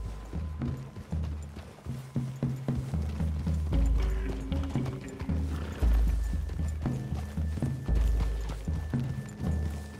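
Horses walk through a wooded clearing with steady hooves clip-clopping, rhythmic and close, under a bed of music and occasional movement sounds.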